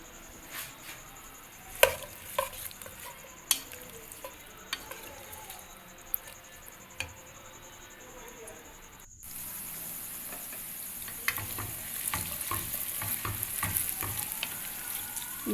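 Pieces of colocasia (arbi) fry in a pan with a steady sizzle and occasional stirring clicks, the hiss growing louder and denser partway through, with no talking.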